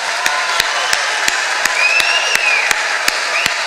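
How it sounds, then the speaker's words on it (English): Outdoor festival crowd at FightingBobFest North 2011 giving a sustained round of applause for the organizers, dense clapping with a few louder regular claps close by and faint cheering. "a huge, unyielding, crazy, out of control round of applause for the organizers of BobFest North"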